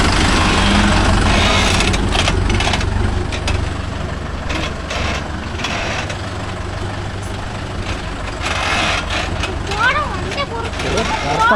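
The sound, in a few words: Mahindra Yuvo Tech Plus 585 4WD tractor engine running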